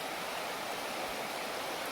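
A river flows in a continuous, even rush of water, soft and steady with no breaks and no other sounds.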